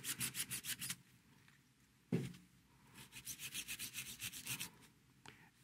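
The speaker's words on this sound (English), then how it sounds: "a little scrubbing." Pins of a BioTek ELx405 washer manifold being scrubbed with alcohol; quiet, rapid back-and-forth brushing strokes in two bursts, separated by a lull and a single sharp knock, with no talk.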